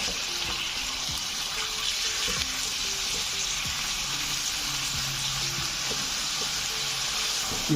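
About half a kilo of minced grilled keema frying in a pan, a steady close sizzle with soft hissing and occasional scraping stir strokes, continuous and without talk.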